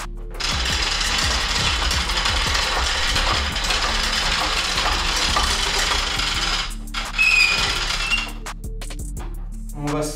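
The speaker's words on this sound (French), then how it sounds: "Je vais donc mouliner, le monter, bloquer la plaque de plâtre" A drywall panel lift is cranked up toward a bathroom ceiling during a renovation, giving a loud, continuous rattling of metal with clinking and ratcheting. The noise stops abruptly, and a few brief clanks and knocks follow.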